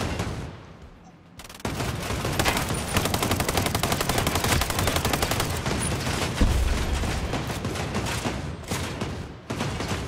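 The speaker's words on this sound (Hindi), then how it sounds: "एक गई मिसाइल।" Heavy gunfire and explosive bursts in the shooter video game Ghost Recon Breakpoint, including a missile launch, roaring loud and dense almost without pause after a quieter opening second, with a brief low boom partway through.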